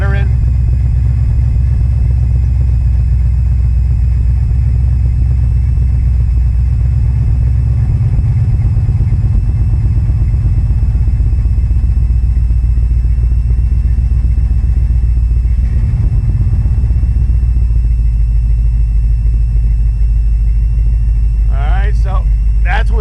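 A car engine idling near 1,000 RPM with the choke pulled partly out, running loud and close with a fluttering, uneven low rumble throughout and a brief buzzing near the end.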